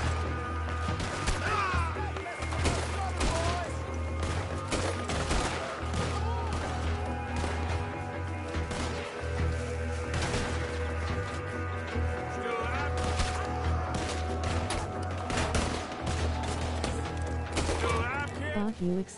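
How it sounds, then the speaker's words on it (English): Gunfire in Red Dead Redemption 2, dense volleys of shots and crashes over a steady background score, with someone talking excitedly throughout. "I'm trying to shoot these bastards."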